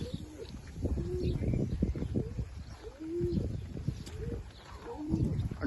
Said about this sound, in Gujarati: બાકી મિત્રો આપણા કબૂતર બધા જોવો તમે.